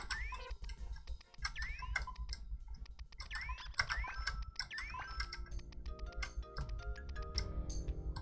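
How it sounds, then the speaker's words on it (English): A loud computer keyboard clatters with dense, irregular keystroke clicks throughout, mixed with game sound effects and background music during a Puzzle Bobble session. "My keyboard is pretty loud."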